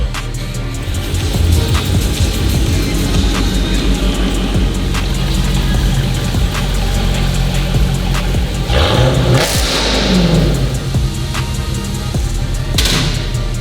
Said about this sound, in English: H pipe is gonna make it growl more